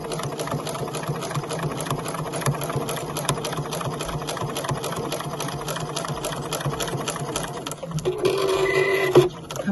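A sewing machine stitches slowly through bulky scrap fabric, a close rhythmic whirring and clatter with a brief faster burst of back-stitching near the end.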